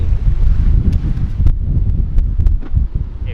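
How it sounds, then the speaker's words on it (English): Strong wind buffets the microphone in continuous low rumbling gusts at a beach in Malindi, Kenya, loud and steady throughout with no voices. "it's really windy"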